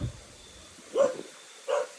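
A dog gives two short barks about a second apart, moderately loud and a little distant, outdoors at night in the Philippines with low background noise between the barks.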